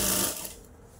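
A sewing machine stitches a traditional Kolhapuri nine-yard nauvari saree with a brief, dense whir of rapid mechanical stitching that fades within a second, with no talk.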